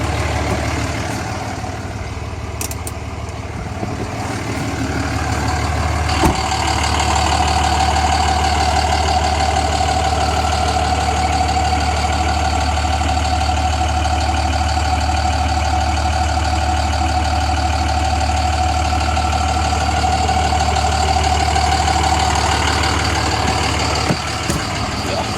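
A Cummins 12-valve diesel pickup engine idles loudly and steadily after starting, a deep continuous throbbing drone that runs nearly unbroken, with a brief clunk early and late.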